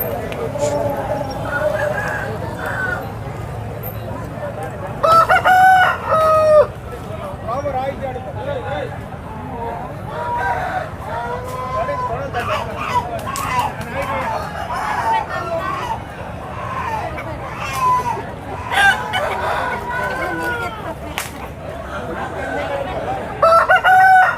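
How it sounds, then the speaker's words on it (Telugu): Several country roosters crow repeatedly amid a busy crowd murmur at a weekly village market in Vizianagaram, with clucking hens and chatter from many voices filling the background throughout. "పుంజులు వచ్చాయి"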